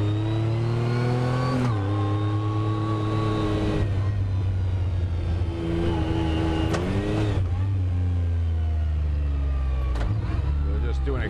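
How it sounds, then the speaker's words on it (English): A Yamaha YXZ1000R side-by-side accelerates on concrete, its engine climbing in pitch through repeated rising gear pulls with brief drops between shifts, loud and close. "We'll just do an acceleration test."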